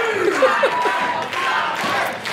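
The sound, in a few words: wrestling event crowd cheering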